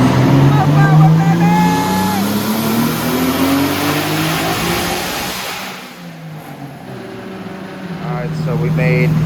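A Nissan Skyline R34, turbocharged and running at 20 psi, revs hard on a dyno; the engine note climbs steadily in pitch, drops off, then picks up again, loud and close, with voices audible over it.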